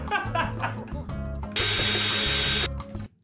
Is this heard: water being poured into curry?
no